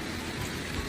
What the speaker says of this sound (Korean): 비 오는 날